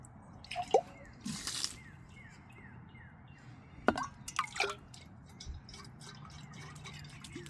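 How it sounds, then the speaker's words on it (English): Coffee grounds are rinsed out with water at an off-grid campsite, heard as a few scattered splashes, drips and squishy pours against a quiet outdoor background. "Rinse off these coffee grinds."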